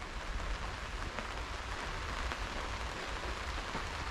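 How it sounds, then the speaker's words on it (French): Rain falls steadily in an outdoor garden during planting, dense pattering drops on surfaces with a constant hiss, fairly close, no voices. "Il tombe quelques gouttes."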